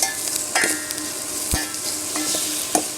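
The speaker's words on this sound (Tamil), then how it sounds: "நம்ம தக்காளியும் ஆட் பண்ணி ஒரு வணக்கிடலாம்" Tomatoes sizzle and fry in a hot pan while being stirred for a thuthuvalai rasam spice paste, a steady crackling hiss broken by a few sharp spoon scrapes and clinks against the pan.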